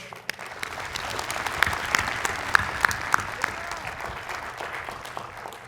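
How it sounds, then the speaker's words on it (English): An audience at an undergraduate commencement ceremony breaks into steady, broad applause, a dense wash of clapping with a few sharper standout claps and occasional whoops, holding at an even level throughout. "give a round of applause to all of the people as a family that made this happen"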